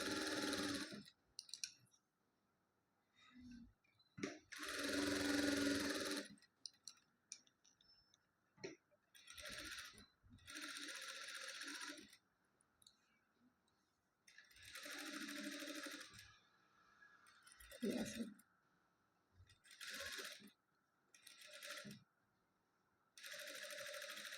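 Sewing machine stitching a fabric lining onto puff sleeves, running in repeated short bursts of a few seconds each with brief pauses between, moderately close and with no talking.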